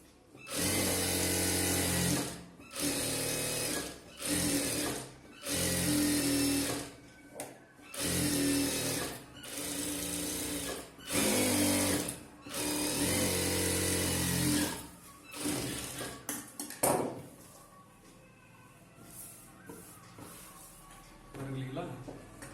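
An industrial sewing machine stitching a chudithar top and pant in a tailoring workshop, running in about ten loud bursts of fast whirring stitching separated by short pauses, ending in softer handling noises.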